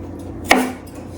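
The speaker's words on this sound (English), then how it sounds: "on to our celery. Well, chop." A knife chopping celery on a cutting board, a single sharp close thunk with a brief ringing decay, alone in a quiet kitchen.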